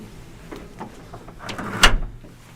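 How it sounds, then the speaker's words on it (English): A studio door in a radio station swings shut with a few soft creaks and shuffles, then a firm latching thud, close by and alone without talk. "We'll shut that door for us."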